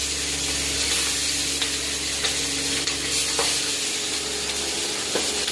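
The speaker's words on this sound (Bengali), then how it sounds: "ভেজে নেব।" Six tengra fish fry in hot oil in a pan with a dense, steady sizzle and occasional light clicks and pops, close and constant, with no talking.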